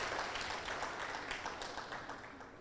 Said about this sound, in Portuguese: Então dê um aplauso forte ao Senhor.